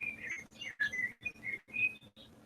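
Birds chirp and tweet in quick, bright bursts with short pauses between, fairly close and clear, no voices.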